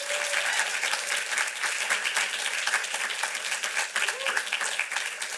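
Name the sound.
audience applause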